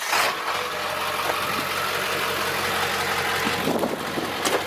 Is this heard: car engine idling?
yes